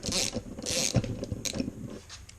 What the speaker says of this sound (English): we can just loosen this bolts. Slowly remove tension from our valve spring.